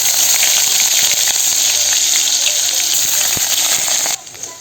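Chopped onion frying in hot oil in a wok after a kalonji tempering, a loud continuous sizzle with faint stirring scrapes, cutting off abruptly near the end.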